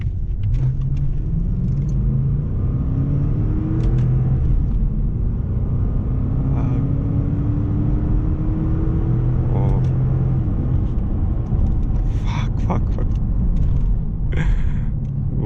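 Toyota Land Cruiser V8 accelerating hard in first gear, a steady loud engine rumble with rising harmonic sweeps as revs climb, heard from inside the cabin with some faint background noise.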